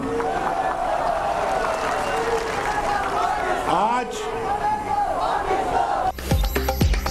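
A large crowd in Muzaffarabad chants Kashmir Banega Pakistan slogans in a loud, continuous roar of massed voices, with a rhythmic swell and a burst of louder shouting near the end.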